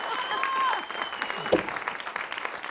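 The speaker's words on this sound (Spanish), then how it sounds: "Dele un aplauso." Brief applause from a small audience during an interview, light scattered clapping running throughout with a whistle-like tone and voices in the background.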